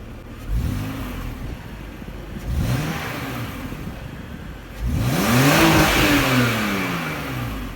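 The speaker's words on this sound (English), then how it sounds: "Obviously 3 litre straight 6, so it sounds quite nice." A BMW X5 E53's 3-litre straight-six engine revs three times, each rise and fall in pitch, the last rev longest and loudest, with idling rumble between bursts.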